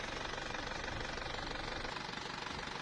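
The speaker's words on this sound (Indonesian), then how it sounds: "langsung saja kita nyalakan untuk kondisi mesinnya" A 1997 Isuzu Panther Grand Royal engine runs steadily under an open hood, a continuous close rumble with a fast even knocking pulse and no talk over it.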